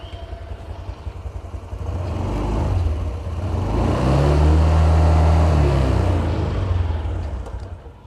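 Honda Vario 125 scooter engine held still and revved once, idling before it rises into a loud, drawn-out rev, holds there and then winds back down to idle, close by.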